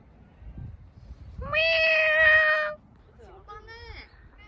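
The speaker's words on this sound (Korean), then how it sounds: "고양이다." A cat meows loudly and close by, one long drawn-out call followed by a shorter, fainter meow, over quiet background noise.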